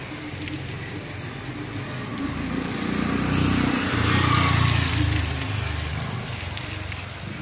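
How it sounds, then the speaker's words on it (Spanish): Heavy rain falls at night in the Siloé neighbourhood of Cali, Colombia, at 2:30 a.m. on Easter Sunday, a steady, moderately faint hiss of downpour that swells slightly in the middle. "Fuerte lluvia en Colombia, fuerte lluvia en Cali, fuerte lluvia en Siloé."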